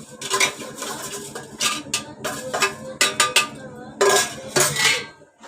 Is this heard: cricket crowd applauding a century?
no